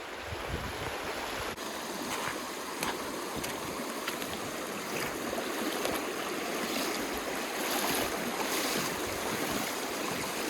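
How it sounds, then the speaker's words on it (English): Water flows and gurgles steadily nearby, a continuous rushing stream at St. Martin's sea caves, New Brunswick, with bright splashing texture throughout, no voices. "This water's actually flowing pretty good."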